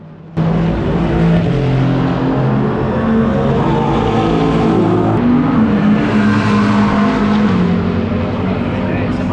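Racing cars at full throttle during a British GT race at Donington, engine notes rising and falling as several cars pass, loud and continuous, with a voice speaking over them.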